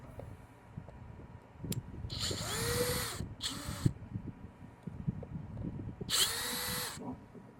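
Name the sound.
power drill removing screws from Airstream data port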